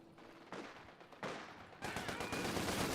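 Maxim machine gun fire in the Company of Heroes 2 strategy game, heard as loud bursts of rapid gunfire that grow denser and more continuous toward the end, with no voices.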